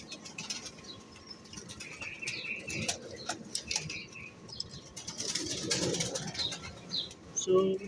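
Racing pigeons returning from a 100 km training toss, with soft cooing, scattered wing flaps and small mechanical clicks around a loft, close and moderate in level, joined by a sharp louder flutter near the end.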